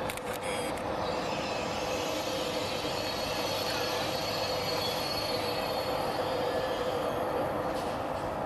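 A Thalys TGV high-speed train passes in the Tarentaise, a steady loud roar of wheels on rail with a sustained squealing tone throughout.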